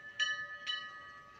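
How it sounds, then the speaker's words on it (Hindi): A bell at the Bholeshwar Mahadev temple is struck twice about half a second apart, each stroke leaving a faint ringing tone that hangs in the air, distant and soft over quiet background. "घंटी की आवाज़ यहाँ तक आ रही"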